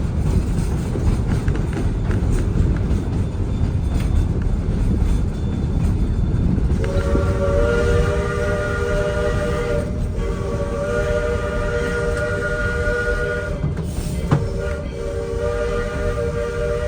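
A train rumbles continuously near Denver, loud and steady, then its horn sounds in long, sustained blasts broken by short pauses as the rolling noise carries on underneath.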